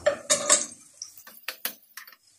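Metal utensil scraping and clinking against a cooking pot while tomato paste is stirred with water, a few brief knocks and taps, close and fairly quiet.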